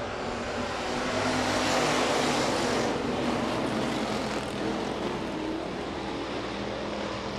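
USRA Hobby Stock race cars roar together through a heat race at Rapid Speedway, a dense, loud, continuous engine drone that holds steady for the whole stretch.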